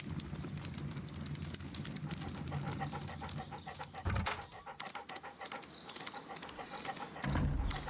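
A dog in the Sherlock Holmes Crimes and Punishments video game pants quickly and steadily at close range, its breathing mixed with soft pattering paw steps and faint game ambience, with no talking.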